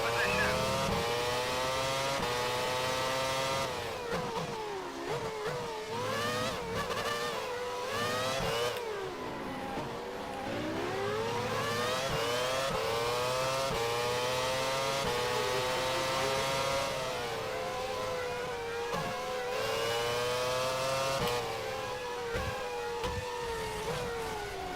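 Formula One race car engine in the 95 Saga racing game, a continuous high revving whine rising and falling through gear changes and braking across a lap, with voices talking over it.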